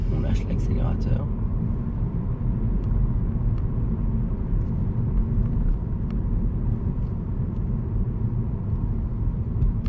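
Car driving through a roundabout while a learner driver accelerates slightly, giving a steady low engine rumble and road noise from inside the cabin throughout, with people speaking over it.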